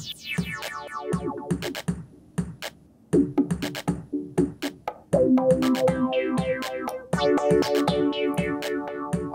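A drum rack instrument plays a busy electronic beat with an auto filter engaged, its punchy hits and pitched layers swelling and thinning as the filter sweeps, loud and continuous with no voices.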